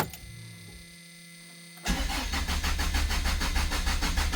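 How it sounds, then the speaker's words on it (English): An abandoned Plymouth Horizon's engine cranks loudly and close by after a quiet hum, the starter turning over in a fast, steady, rhythmic chug that keeps going without catching. "So we are in the car, and let's see what it does. Let's see if it'll start."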